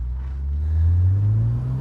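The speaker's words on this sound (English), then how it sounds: "Just take a listen to that exhaust pipe." A BMW E89 Z4 35i twin-turbo roadster's exhaust booms low and steady while driving on a wet road, swelling slightly as the engine pulls, with no talking over it.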